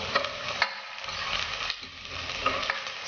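Ingredients for vegetarian methi pulav fry in a pan, a steady sizzle broken by several scraping stirs of a spoon, close and alone.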